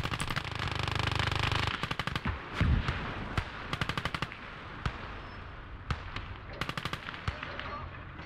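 Machine-gun fire from the World War II video game Call to Arms: Gates of Hell: a long sustained roar of firing breaks into repeated rapid bursts and scattered single loud cracks.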